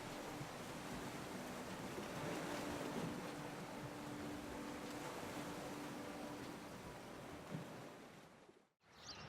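Ocean waves rolling onto a beach on North Carolina's Outer Banks, a broad steady wash of surf with wind rumble on the microphone, fading out abruptly near the end.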